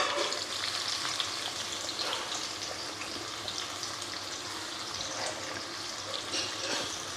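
Chopped cabbage fries in a pan, roasted well for Kerala-style fried rice. A steady broad sizzle holds at an even, moderate level, close by and without any talking.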